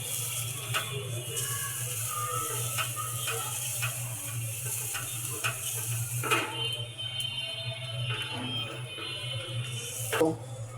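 Rice and lentils frying in a pan for vegetable khichuri, a steady soft sizzle with scattered ticks and scraping clicks, fairly close and continuous, with no talk.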